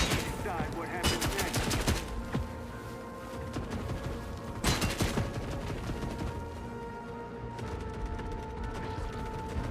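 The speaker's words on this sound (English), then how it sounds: "She's shooting past the backpack." Enemy gunfire in the shooter game Forever Winter: sharp bursts of rapid automatic fire crack out in clusters, loud and close, separated by mechanical clatter and quieter gaps, with faint talk underneath.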